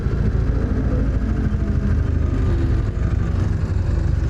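A motorcycle engine revving steadily behind a rider who has stopped beside a 2001 Triumph Bonneville, a loud continuous low drone that stays close and sustained throughout, with no talk over it.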